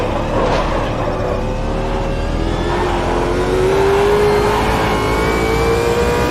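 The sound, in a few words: race car engine and braking in Automobilista 2 video game at Bathurst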